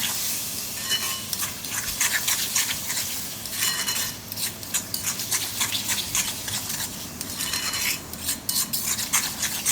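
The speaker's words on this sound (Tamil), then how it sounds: "நம்ம மசாலாவோட நல்லாவே சிக்கனை வந்து மிக்ஸ் பண்ணிடுங்க." Chicken being mixed with masala for a wedding-style chicken sukka fry: busy, close scraping and clattering of a utensil against the vessel in quick irregular strokes over a soft continuous sizzle.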